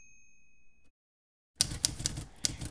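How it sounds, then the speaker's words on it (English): Crisp typewriter keystrokes strike in a quick burst after a short silence, a few sharp clacks following a faint earlier tone, close and clear. "The noise of the typewriter became synonymous with the unavoidable and insistent reminder of the technicalization of knowledge."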